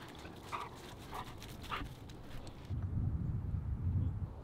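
A German Shepherd barks a few times at a distance outdoors, faint yelps repeating under steady wind noise, then low rumbling wind takes over.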